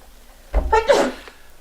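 A single sharp human sneeze bursts out during a quiet finance committee meeting, close and fairly loud, lasting about half a second against a faint room hum.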